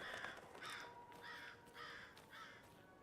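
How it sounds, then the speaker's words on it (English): Crows in the Alan Wake 2 video game caw in a series of about five harsh, evenly spaced calls at moderate distance, quiet overall and with no talking. "Great, crows."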